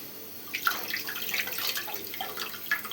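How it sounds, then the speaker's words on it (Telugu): Water poured into a pot for pepper rasam, a short close splashing and trickling pour with light liquid gurgles, no voices. "మీకు ఎంత కావాలంటే అంత వాటర్ అయితే పోసుకోవచ్చు."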